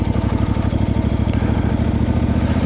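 A Voge DS 800 Rally motorcycle engine running rough with the throttle off, a loud, close, lumpy idle with an uneven rhythmic chug and clatter, no talking.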